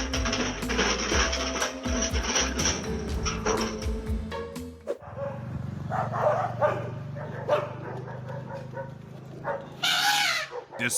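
Two dogs barking repeatedly at a young elephant in a town, the barks near and overlapping, with other voices and background noise around them.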